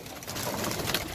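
Teddy breed pigeons coo softly close by in a short, gentle burst of throaty calls, with no talk.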